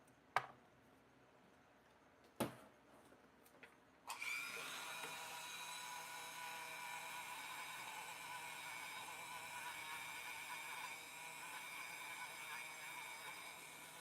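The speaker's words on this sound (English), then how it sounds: "These little buffing wheels work fantastic for taking off little support nibs, but you want to go really, really light with it." A small rotary buffing wheel spins up and runs steadily with a high whine, lightly taking support nibs off a figure, after a few sharp taps and clicks at the start.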